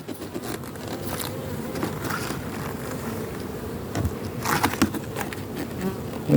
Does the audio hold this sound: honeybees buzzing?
yes